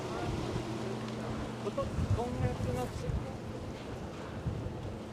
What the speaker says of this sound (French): Et vous entendez le vent ou pas? Parce que là, ça vente.